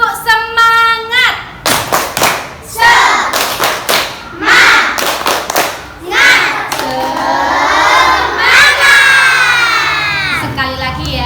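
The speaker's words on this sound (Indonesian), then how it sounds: "coba kita lakukan tepuk semangat biar makin semangat pagi hari ini ya." A class of young children in a school lesson performs the rhythmic tepuk semangat clapping chant, sharp bursts of claps alternating with loud shouted chanted words, led by a teacher's voice, close and lively indoors.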